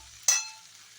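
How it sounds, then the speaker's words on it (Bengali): Shukto vegetables with ginger being sautéed in a pan: one sudden close sizzle-and-stir burst that fades quickly into quiet. "দেখতেই পাচ্ছেন আমি শুক্তোটা কষাচ্ছি।"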